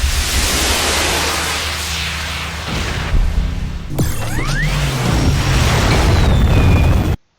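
Slowed, pitch-shifted explosions from the Missile Command video game, a dense roaring noise wash with deep booms and falling tonal sweeps, loud and continuous before cutting off abruptly near the end.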